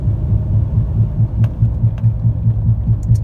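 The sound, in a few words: pulsing noise from a failing Nissan Titan front differential while driving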